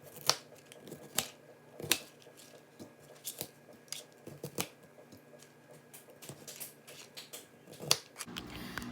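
Broccoli being cut and tossed into a bowl during keto snack prep: sharp, irregular chops and clatters, some louder than others, scattered across a quiet kitchen with no talking.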